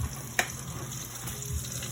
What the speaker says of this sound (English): No better sound in the world than chicken frying